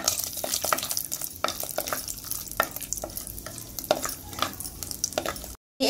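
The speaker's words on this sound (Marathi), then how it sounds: "तुपात आपण काजू पण परतून घेऊया।" Cashews frying in ghee in a pan, a soft steady sizzle broken by repeated sharp clicks and scrapes of a spoon stirring, close and fairly quiet, cutting to silence near the end.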